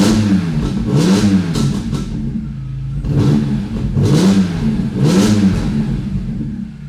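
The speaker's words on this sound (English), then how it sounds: "I'm just going to rev it out for you." A BMW E46 M3 with a Valvetronic Designs exhaust, valves closed, revs up loudly three times in quick succession, each rise and fall of engine pitch clearly heard close by with no speech.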